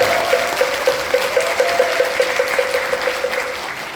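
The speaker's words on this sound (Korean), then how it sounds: "큰 박수 부탁드립니다" Applause from an audience at a Buddhist missionary corps regional rally in Gyeongbuk, a steady wash of clapping with a faint rhythmic tapping running through it, moderately loud with no voices.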